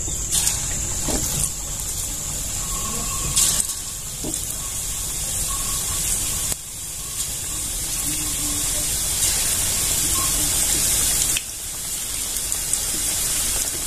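Spinach and cabbage bhaji fritters fry in hot oil with a steady, loud crackling hiss that runs throughout, close by and without talk.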